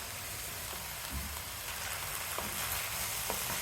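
Cooked moong dal tipped into a pan of sizzling broccoli curry, giving a steady close frying hiss with a few soft splashes and taps and no talk.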